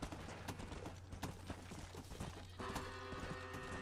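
Hooves of a zombie horse in Red Dead Redemption clop in a quick, steady rhythm, fairly close and clear, with a low background hum and no talking.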